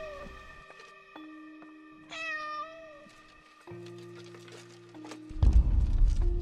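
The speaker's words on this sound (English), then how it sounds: "Follow the cat." A cat meows repeatedly inside the horror video game Layers of Fear, its rising, drawn-out cries standing out against sustained eerie musical tones and ambient drones, with a louder rumbling burst at the end.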